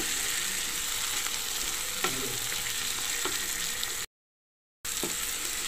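Chicken sizzles and fries in a pan, a steady close crackle with a few louder stirring scrapes, broken by a short gap of silence near the end before the sizzle resumes.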